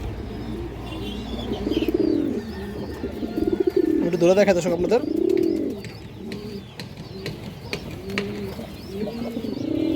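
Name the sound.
pigeons cooing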